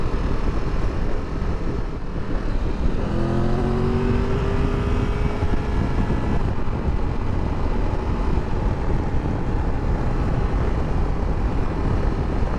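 A 2023 Triumph Tiger 1200 Rally Explorer motorcycle engine pulls hard, its rising whine climbing in pitch as it accelerates, loud and steady beneath heavy wind rush for the whole stretch.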